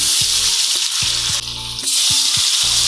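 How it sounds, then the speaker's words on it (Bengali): Katla fish pieces sizzle loudly in hot oil in a kadai, a dense, steady frying hiss with a clear low rhythmic bubbling pulse underneath, very close, with no voices. "তেল গরম হয়ে গেছে, এখন মাছ দিয়ে দেব। এক এক করে মাছগুলি দিয়ে দেব।"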